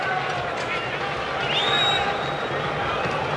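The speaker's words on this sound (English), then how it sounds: "Crowd very quiet" A quiet baseball stadium crowd at an Orioles versus Cuba game, a steady low murmur of distant voices and ambient hum with no cheering swells, under continuous broadcast commentary.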